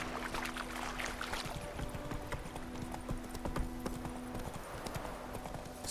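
Hooves of Geralt's horse Roach gallop in a steady clip-clop rhythm through The Witcher 3: Wild Hunt, with a faint tonal game hum and soft ambient noise underneath; moderately close and not loud.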